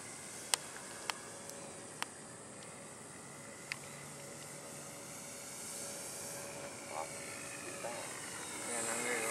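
An Eflite Sukhoi 26m RC model plane drones faintly in the distance during a practice pass, its engine tone slowly rising toward the end, with a few sharp clicks and people talking outdoors.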